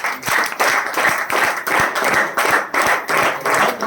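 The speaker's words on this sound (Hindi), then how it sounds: "आपसे भी ज्यादा बढ़कर हमारी कंपनी है, एक बार ताली होना चाहिए" An audience at a company motivational event claps in unison, a loud rhythmic burst of synchronized hand claps roughly twice per second, with no talking over it.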